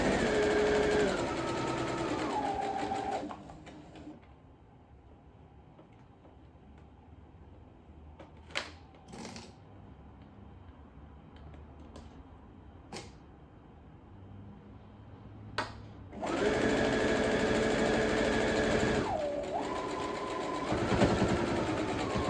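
A sewing machine stitches elastic onto a baby onesie for a first-birthday banner. The motor whirs steadily in two close, fairly loud runs, separated by a long quiet pause with a few small clicks and taps.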